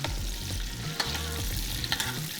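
Beef steak frying in a pan while being basted, a close, steady sizzle broken by soft spoon scrapes and occasional splattering pops, with no voices.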